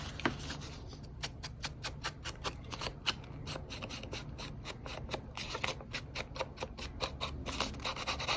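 Paper is crinkled by hand close up, a quiet run of rapid crisp rustles and crackles in irregular bursts that continues steadily throughout, with no one talking.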